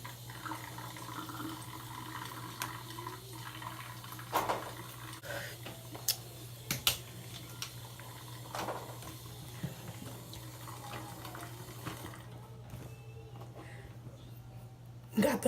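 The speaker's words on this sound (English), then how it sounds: "So I'm gonna turn the water on." Water runs from a bathroom tap in a quiet room, with scattered clinks and knocks and a low steady hum underneath.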